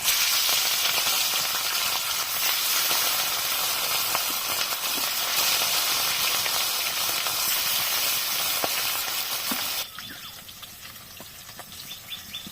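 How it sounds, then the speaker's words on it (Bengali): A loud, steady sizzling hiss of rohu fish frying in hot mustard oil, with faint chirps in the background; the sizzle drops noticeably quieter near the end. "তেলটা গরম হয়ে গেলে এবার আস্তে আস্তে মাছগুলোকে ভেজে নেব"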